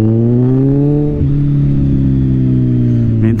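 A car fitted with a replacement exhaust revs loudly up close, a deep throaty drone rising in pitch, dipping briefly and climbing again with a rough rasp.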